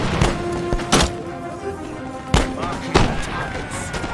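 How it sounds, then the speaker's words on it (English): Pistol shots ring out in a Napoleonic-era battle in Empire: Total War, several sharp broadband cracks at irregular intervals over a continuous din of battlefield noise, with a commander's voice speaking in between. "This guy fired his pistol at him."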